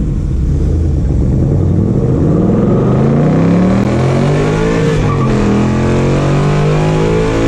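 A 2019 Ford Mustang Bullitt and a 2019 Mustang GT race side by side, V8 engines roaring loud and close as they accelerate hard through rising gear pulls.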